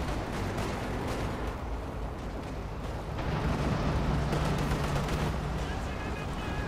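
In Company of Heroes 2, a KV-8 flamethrower tank burns enemy infantry while dense battle noise rumbles throughout, with gunfire and blasts. A commentator talks over the fighting.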